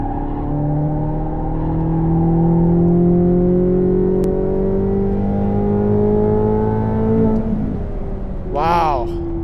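A race car runs hard on a track beside a ZL1 on slicks, with a loud, close engine drone climbing in pitch through the gears, then a sharp shift and lift near the end, under a person talking.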